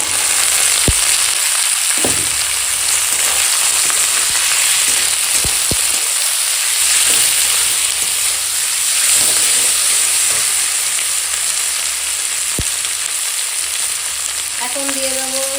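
Tomato and spring onion frying in a spice paste in a pan, a loud continuous sizzle with a steady hiss. Occasional scrapes and taps from stirring cut through it.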